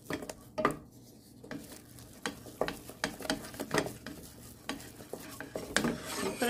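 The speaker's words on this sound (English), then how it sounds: "And just keep stirring." A cup of flour stirred into choux pastry dough in a pan over the heat, a spoon scraping and knocking against the pan in a steady, repeated rhythm, close up, with no voices.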